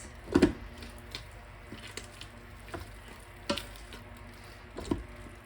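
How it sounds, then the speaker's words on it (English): A potato masher squashes cooked sweet potato in a pot with butter, giving a few soft, wet squishing thumps spaced a second or so apart against a quiet background. "So you can just use your good old potato masher and go ahead and mash that"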